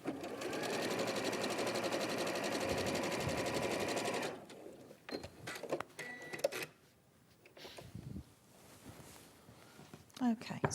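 Sewing machine stitching a trouser pocket and fly, a steady whir for about four seconds, then stopping to quieter handling noises and brief low talk.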